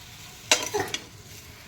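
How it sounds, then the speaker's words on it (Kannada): Head meat sautéing in a little oil, heard as a few quick stirring scrapes and brief sizzling bursts close by over a quiet background, with no one talking. "ನೋಡಿ ಸ್ವಲ್ಪ ಎಣ್ಣೆಲಿ ಹೀಗೆ ಬಾಡಿಸ್ಕೊಳ್ಬೇಕು"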